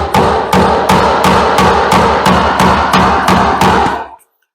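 About ten sharp, loud hammer blows at an even rhythm, driving nails below the surface with a nail set during a staircase remodel, each hit ringing briefly before the next, then stopping.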